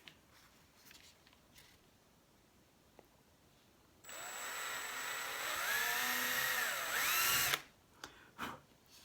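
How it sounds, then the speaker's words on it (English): A power drill bores a hole into a dried bottle gourd, a steady whining burst of about three and a half seconds with the pitch sagging as the bit bites in, then it stops and a few small handling knocks follow. "I want to drill a hole for the nose"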